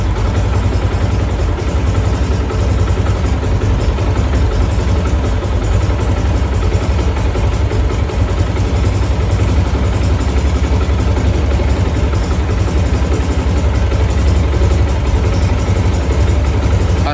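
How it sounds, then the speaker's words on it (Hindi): A Yamaha YBR125 motorcycle engine with a butterfly carburetor idles during mixture tuning, giving a steady, close, low mechanical drone with no clear pauses and no voices. "تبھی میں اس کو کھولوں گا اور آپ انجن کے ساؤنڈ دیکھیں گے، آپ کو پتہ چلتا جائے گا اس کے RPM بڑھتے چلے جائیں گے۔"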